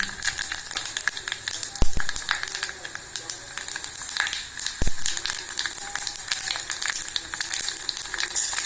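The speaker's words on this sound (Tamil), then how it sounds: "கடுகு, ஜீரகம், வெந்தயம் மூணும் போட்டு நம்ம தாளிச்சிடலாங்க. நல்லெண்ணெய் தான் ஊற்றிக்கணும்." Mustard seeds, cumin and fenugreek sizzle in sesame oil while being tempered for vendhaya kulambu, a steady crackling fry with popping seeds and two sharp knocks, close by.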